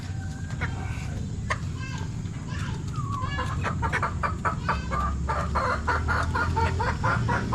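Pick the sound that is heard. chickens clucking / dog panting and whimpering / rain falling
chickens clucking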